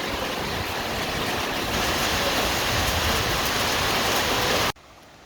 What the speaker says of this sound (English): So the silent sound of gently trickling, flowing water.